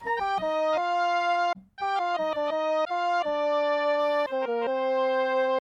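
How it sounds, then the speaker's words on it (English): A woodwind-style synthesizer patch from the Dreamland Combi Mode program plays a melodic line of sustained and short notes, close and steady, with one brief gap; no talking. "In the first sound, we have woodwind"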